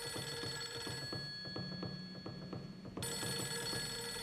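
A telephone in a video game rings repeatedly, steady electronic bell bursts pulsing in a regular rhythm over a constant game soundtrack, fairly loud and close, with no voices.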